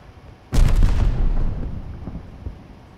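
A sticky bomb detonating in a video game: one sudden loud blast that booms and rumbles, then fades over about two seconds, heard up close with no talking.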